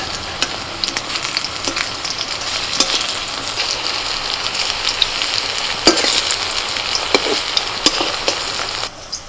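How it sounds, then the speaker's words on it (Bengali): Taro leaf layer pakoras deep-frying in hot oil in a pan as they are turned to brown, giving a steady, close sizzle with scattered crackling pops throughout and no talking. "এপিট ওপিট উল্টে পাল্টে এরকম একটু লাল করে ভেজে তুলে নিচ্ছি।"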